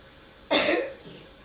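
A single harsh cough bursts out close and loud, then trails off into quiet.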